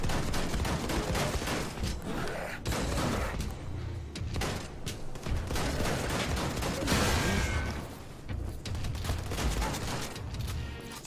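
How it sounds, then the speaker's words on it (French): Sustained gunfire in a shooter game set aboard a train, with dense overlapping bursts and rapid automatic shots under a constant loud mechanical rumble, heavy volleys hammering continuously from several directions with no talking. "Ça tire de derrière, ça tire de devant, ça tire de partout."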